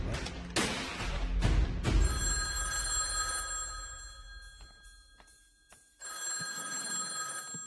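A telephone bell rings out in a film scene, repeated electronic ringing tones with thuds and background sound around them.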